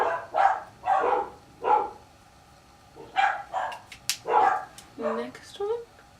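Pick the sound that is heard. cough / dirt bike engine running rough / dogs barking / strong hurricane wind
dogs barking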